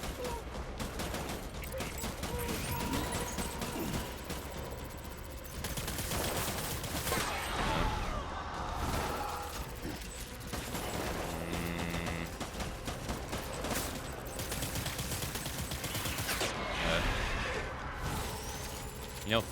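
Repeated bursts of gunfire from Death Stranding, played on very hard difficulty, crackle in rapid volleys over roughly twenty seconds, moderately loud under a game soundtrack with a voice talking at times.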